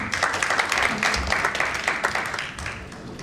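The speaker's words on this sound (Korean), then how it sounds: "박수로 모시겠습니다" Audience applause welcoming a speaker at a Korean local government policy forum: a crowd clapping steadily and fairly close for about three seconds, then slowly fading.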